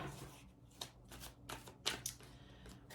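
Tarot cards shuffled by hand in a quiet room, with a run of quick riffling bursts and soft flicks at an irregular rhythm, close and fairly faint.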